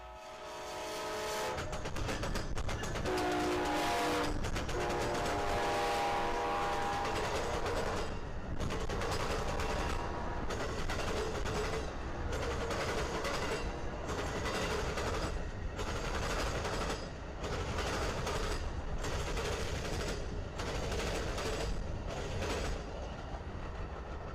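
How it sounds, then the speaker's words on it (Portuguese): An Amtrak Floridian passenger train thunders fast through a rail crossing, horn blaring at the start, followed by rhythmic clattering bursts as wheels pound over the rail joints for a long stretch. "com o trem cruzando ruidosamente a interseção ferroviária"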